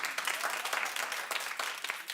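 An audience applauding in a television talk show studio, a steady dense wash of clapping lasting a couple of seconds at moderate level, with no speech over it.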